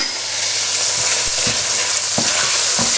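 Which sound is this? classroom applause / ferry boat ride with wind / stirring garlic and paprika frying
stirring garlic and paprika frying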